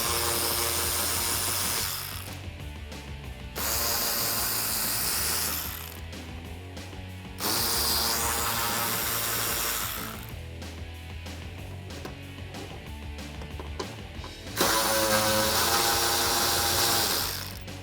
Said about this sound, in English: take my 10mm socket on my ratchet and remove those